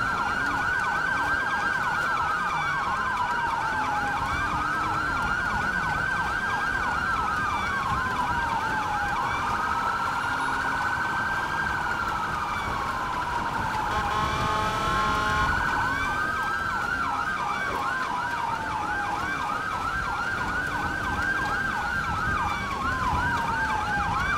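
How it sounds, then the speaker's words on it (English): Continuous wailing police sirens in Grand Theft Auto V rise and fall in repeating sweeps over a steady engine drone, loud and unbroken throughout. "Can you hear the sirens?"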